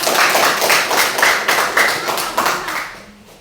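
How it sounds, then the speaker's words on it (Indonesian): A seventh-grade social studies class applauds a student group with brisk, dense clapping, close and loud, that holds for a few seconds and then tapers off. "Oke, berikan aplaus untuk"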